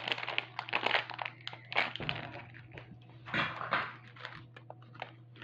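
Close-up crinkling and rustling of a plastic blind bag being torn open, with irregular bursts of tearing and crumpling over a low steady hum.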